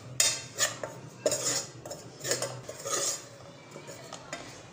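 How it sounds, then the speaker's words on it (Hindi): A spoon scrapes and clinks against a hot pan as two heaped spoonfuls of maize flour go in dry, without oil, a few distinct metallic taps and scrapes close by over a faint low hum. "ये हम आटा, ये 2 चम्मच हम भर के लेंगे।"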